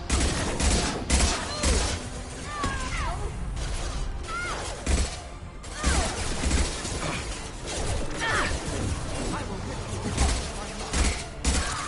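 Rapid bursts of gunfire during a Mass Effect 2 firefight, dense and loud with repeated heavy shots, impacts and mechanical clatter, while voices shout over the combat.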